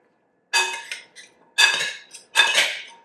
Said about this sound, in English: So you want to toss this all together until everything is thoroughly coated.